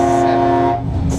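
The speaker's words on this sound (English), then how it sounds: "Welcome aboard the Disneyland monorail." A Disneyland Mark 7 monorail train hums with a loud steady tonal drone up close, then briefly drops off before the whine returns.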